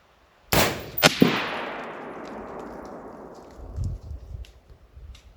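A single sharp rifle shot firing PMC X-TAC 5.56x45mm ammunition on an outdoor range, loud and close, followed by a quick second crack and a long rolling echo that fades over several seconds, with faint low thumps near the end.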